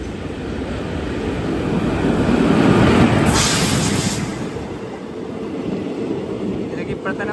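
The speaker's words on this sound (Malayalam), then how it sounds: "ഇപ്പോൾ ഒരു ട്രെയിൻ ഇവിടത്തേക്ക് വരും. വരികയാണ്. കണ്ണൂർ മംഗളൂരു പാസഞ്ചർ." A Kannur–Mangaluru passenger train pulls into Ezhimala railway station, its broad rumble swelling to a peak about midway, then easing to a steady, fairly loud roll.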